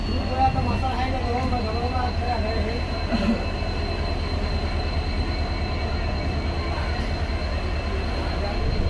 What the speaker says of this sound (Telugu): సో ఫ్రెండ్ వచ్చేసి మనం డోన్ స్టేషన్ నుంచి డిపార్ట్ అవుతున్నాం.